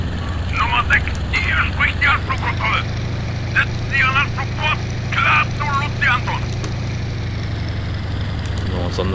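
A fighter plane in the IL-2 flight game drones steadily as it slows and lands on a runway, its low engine hum continuous beneath someone talking throughout.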